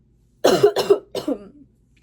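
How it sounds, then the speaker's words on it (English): Three quick, throaty bursts in a row from a person who is sick, like a sniffle-and-sneeze fit or short coughs, close to the mic with no talking. "So if I like sniffle or like sneeze"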